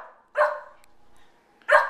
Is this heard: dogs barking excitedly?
yes